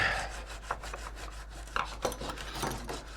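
Hand sanding of wood for a guillotine prop build: a steady, close rasping scrape with a few sharper strokes standing out, no voices.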